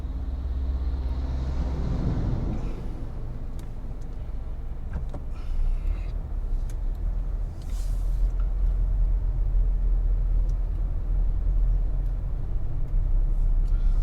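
Traffic passes along a street in Belmont, Jamaica, a continuous low rumble of vehicles rising and fading, with one louder pass near the end and faint background sounds.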